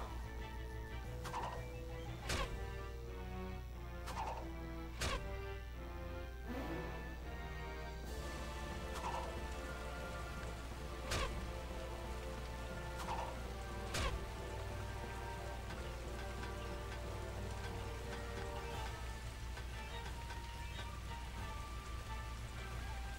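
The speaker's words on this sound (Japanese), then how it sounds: "雨降ってるから今無理だな。" Rain falls steadily in the video game Taikou Risshiden V, a continuous soft patter and hiss with a low ambient bed and scattered sharp tapping clicks, faint, with no speech.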